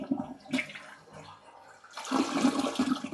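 A toilet flushing in a basement, a loud rushing of water that starts with a brief surge, dips, then swells into a steady gurgling wash close by with no talk over it.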